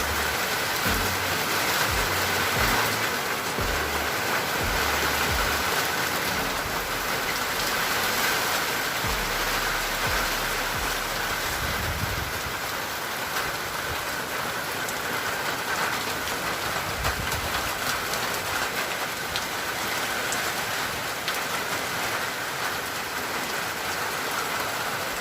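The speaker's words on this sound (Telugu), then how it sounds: "రండి ఫ్రెండ్స్, వర్షం పడుతోంది." Steady rain pours down in a village, a dense, unbroken hiss lasting throughout, loud and close, with a low rumble underneath and no voices.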